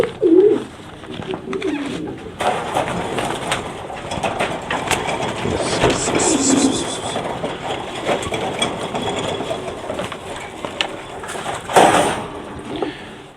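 French meat pigeons cooing in a loft, with low murmuring coos and bird calls repeating throughout over steady background noise, a few sharper clatters and a louder call near the end.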